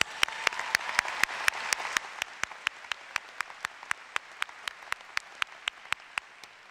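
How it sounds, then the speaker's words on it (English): A commencement audience at a CSUSB ceremony applauds, a broad burst of clapping that thins into a few sharp, evenly spaced claps ringing out clearly in the hall. "Let's give them all a round of applause."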